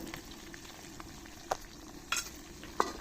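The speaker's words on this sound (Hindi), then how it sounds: "और भिंडी को अच्छी तरह से हम फ्राई कर लेंगे।" Okra frying in hot ghee for a bhindi korma masala, a steady close sizzle and crackle throughout, broken by three sharp utensil knocks or stirring clinks.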